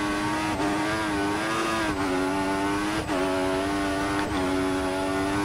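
McLaren Honda Formula 1 car engine in the racing game F1 2014, a loud continuous high-pitched whine with brief dips at gear shifts about once a second, steady and close with no talk.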